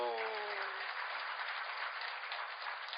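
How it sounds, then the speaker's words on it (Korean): Steady broadband applause from a church congregation fills the whole stretch, loud and sustained, with a brief voice trailing off at the very start. "하나님께 영광의 박수."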